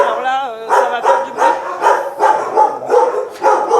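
Shelter dogs in an alley of kennels at the SPA Gennevilliers refuge in France barking loudly and repeatedly in a steady, rhythmic series of close barks, with a whine at the start.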